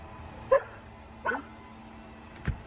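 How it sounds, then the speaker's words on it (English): A dog barks three times, spaced apart, at a moderate distance over a quiet room-tone background, each bark short and sharp with the last one lower and duller. "What you barking at?"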